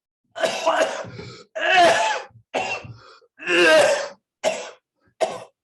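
A series of harsh, dry coughs, six separate bursts in uneven rhythm with short pauses between, close and loud with nothing else heard.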